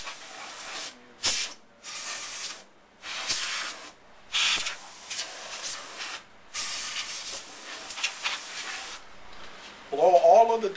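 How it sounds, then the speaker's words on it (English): A can of compressed air blasts dust out of the inside of a desktop computer in about eight sharp hissing bursts of a second or so each, close and loud, with a brief voice at the end. "clean out the inside using your can of compressed air."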